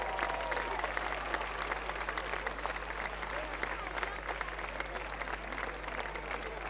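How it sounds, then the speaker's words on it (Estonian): A crowd at a gymnastics festival in Tartu keeps up steady, dense applause, a continuous wash of clapping with a low hum underneath and scattered voices within it. "Aplaus!"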